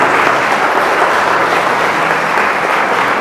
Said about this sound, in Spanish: Aleluya, dale ese aplauso a Jesús.